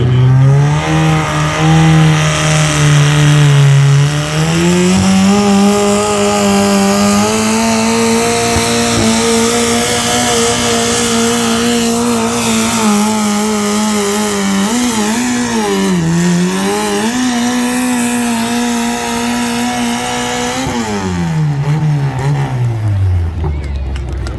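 A four-cylinder engine on a mini-mod pulling tractor at a tractor pull competition, revving loud and close in a sustained, droning pull that holds high, wavers, then winds down near the end.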